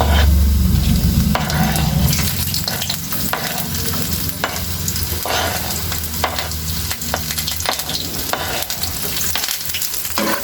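Onions sautéing in a pan for mung bean stew, a loud, close, continuous sizzle with repeated scraping and stirring strokes of a utensil throughout, and no talking.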